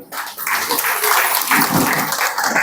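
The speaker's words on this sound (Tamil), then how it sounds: "அதற்காக ஒரு மிகப்பெரிய கைத்தட்டலுடன்" Crowd clapping at a guru's 59th birthday celebration at an ashram, a brisk, loud burst of many hands that starts abruptly and continues in a dense, uneven patter.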